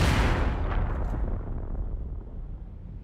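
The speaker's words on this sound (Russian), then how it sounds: "Граната взрывается рядом с автомобилем." Grenade exploding beside a car on a Prague street in 1942, a loud, close blast with a dense roaring rumble that slowly decays over three seconds.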